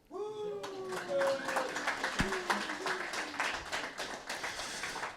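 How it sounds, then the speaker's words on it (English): Audience applause at a hardware meetup welcome in Stockholm, a dense burst of many hands clapping that swells quickly, holds steady, and tapers slightly, with a voice and a short tonal sound near the start. "Applause."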